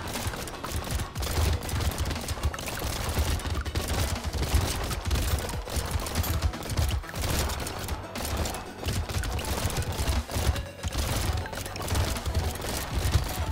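Rapid gunfire from the Renegade gun in the video game Brotato crackles in dense, continuous bursts mixed with game effects, held at a moderate level with no talk over it.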